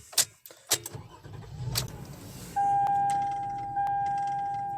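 A Toyota Sienna XLE Limited starts as heard through a dash cam, with keys clinking, the engine cranking and catching, then a steady idle with a sustained electronic beep tone over it.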